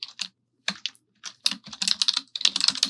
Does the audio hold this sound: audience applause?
no